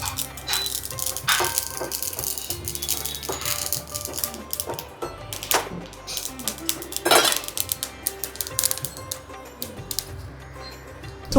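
Sesame seeds dry-roasting in a pan with a spoonful of dried coconut, crackling and popping in a steady scatter of small clicks and rattles close by, with occasional spoon scrapes against the pan.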